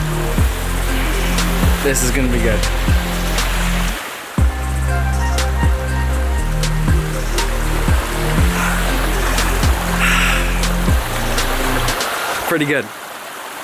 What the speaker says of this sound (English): Got a waterfall right there, got a stream running underneath me.